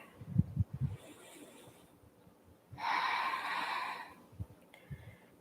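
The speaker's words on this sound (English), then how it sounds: "Take a deep breath here." A deep inhale then a long exhale through the mouth during yoga practice, a single slow breath, close and clear, with a few soft shuffles before it.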